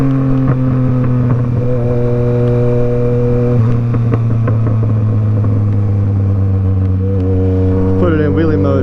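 A Yamaha MT-09 motorcycle engine drones loud and close at a steady pitch, with a slight shift in tone near the end.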